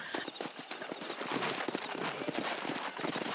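Steady rhythmic clip-clop of horse hooves at a trot in the video game Red Dead Redemption, close and continuous, with no voices.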